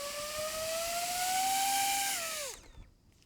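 The front motors of an upside-down DJI FPV drone spin in turtle mode, a close high-pitched steady whine that holds its pitch, then spins down sharply and stops.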